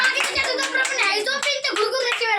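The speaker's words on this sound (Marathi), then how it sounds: "टाळ्या." A small crowd claps for a child, a quick run of bright hand claps repeating steadily for a couple of seconds, with voices chattering underneath.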